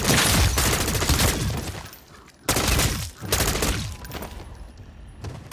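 Rapid automatic gunfire blasts at zombies in a zombie shooting game, two long loud bursts of rattling shots separated by a short gap, then trailing off into scattered fainter fire.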